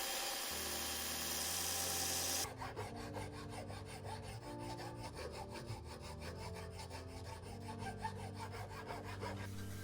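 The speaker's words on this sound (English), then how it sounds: "I start with the belt grinder and then move my way over to the files for the more detailed work" An octagonal wooden knife handle for a professional chef's gyuto is shaped on a belt grinder, then with hand files: a steady grinding roar gives way to quick, rhythmic rasping strokes over a continuous tonal hum.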